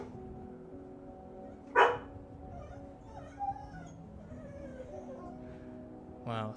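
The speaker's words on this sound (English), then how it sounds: "She's gonna bark again in a sec" A pet dog indoors gives a sharp bark, then soft whines and whimpers, with another brief bark at the end; quiet room tone fills the gaps.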